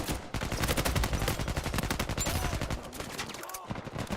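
Uncharted 4 multiplayer covering fire rattles in a continuous, loud stream of rapid automatic shots for the whole stretch, with no pause between bursts.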